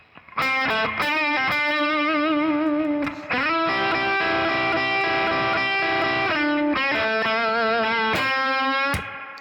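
A heavily distorted electric guitar plays a bluesy lick with bent, sustained notes, loud and continuous, with short pauses between phrases.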